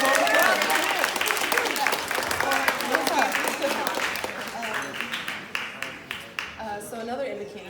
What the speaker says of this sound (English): So everyone, give yourselves a round of applause.